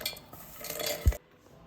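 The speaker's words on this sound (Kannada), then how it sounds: "ಮಿಕ್ಸಿ ಜಾರ್ಗೆ ಟ್ರಾನ್ಸ್ಫರ್ ಮಾಡ್ತಾ ಇದ್ದೀನಿ." Golden-brown roasted groundnuts being tipped into a mixer jar, a brief close rustle and clatter ending in a single clink before it goes quiet.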